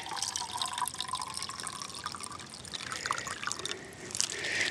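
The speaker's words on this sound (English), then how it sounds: "I'm going to just pour this off into my bottle here, refill my water bottle." Melted snow water poured from a container into a water bottle outdoors, a steady close trickle and splash running for several seconds without talk.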